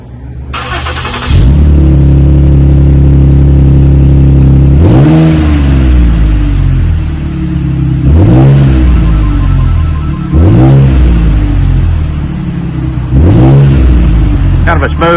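A 2016 Ford Taurus with a Truex pipe and Magnaflow mufflers starts and then revs repeatedly, giving loud, smooth, deep exhaust blips about every three seconds over a steady idle rumble, with no talk.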